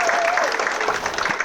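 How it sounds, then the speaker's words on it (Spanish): A church congregation applauds steadily, a dense wash of clapping filling the hall without pause. "¿Por qué no le damos un fuerte aplauso?"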